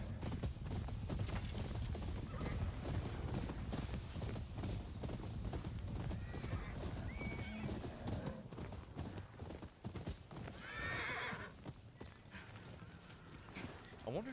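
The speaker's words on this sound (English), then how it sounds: "Just run with the horses." Rhythmic hoofbeats of horses running at a steady clip in the video game Ghost of Yōtei, with a faint neigh near the end, all under a continuous bed of game noise.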